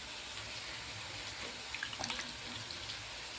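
Dried fish being rinsed and lifted out of water, a soft steady wash of running water with small splashes, fairly faint, no talking.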